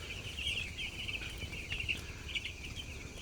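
Chickens, ten days old, in a raised-floor poultry farm with curtained sides in winter, clucking and chirping softly and continuously against a low background rumble.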